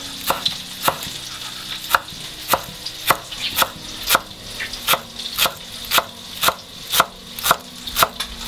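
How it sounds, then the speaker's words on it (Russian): Mixed fresh herbs being finely chopped with a knife on a board, a steady run of crisp, evenly spaced close-up cuts about twice per second, with no talking. "а мы начинаем нарезать зелень"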